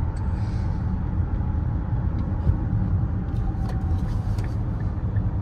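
A 2024 Infiniti QX50 Sport with a CVT and simulated gear shifts cruises along, giving a low, steady cabin drone of engine and road noise with faint tire hiss and no clear breaks.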